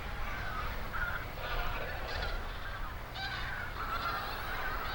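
Winter migratory ducks calling at a grain-strewn feeding ground, repeated nasal honking calls from several birds over a constant low rumble of wind, moderately close.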